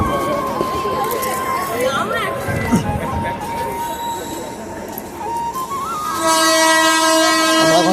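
A train pulls into Gangpur station, with a rumbling, clattering approach and a loud horn blast near the end. Voices talk over it.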